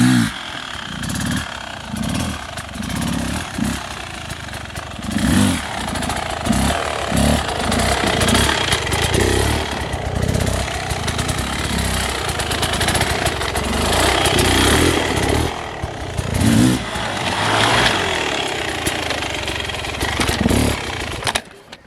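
A 2022 Beta RR 300 two-stroke dirt bike roars nearby while riding, its engine revving up and down continuously at close range through speed turns and jumps.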